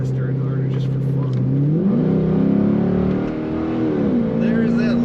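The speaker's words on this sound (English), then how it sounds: "There's that lovely exhaust note." Deep exhaust note of a blue 2010 Chevrolet Corvette Coupe, a steady low drone that climbs in pitch as the engine revs up, then settles back to a hum, close and loud with some talk over it.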